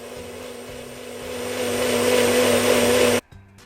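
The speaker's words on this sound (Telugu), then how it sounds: "దీన్ని కోర్స్గా గ్రైండ్ చేసుకోవాలి." A mixie motor whirs close and loud, coarsely grinding tempering spices for a gongura chutney, its pitch climbing for about three seconds before cutting off abruptly into a brief quieter rattle.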